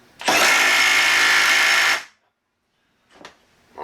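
A Milwaukee M12 stubby impact wrench runs in forward, tightening a fastener with a loud continuous burst of about two seconds, then stops abruptly, followed by faint clicks.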